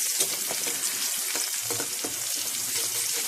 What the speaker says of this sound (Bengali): তো এটা একটু ভালো করে লাল লাল করে ভেজে নিয়ে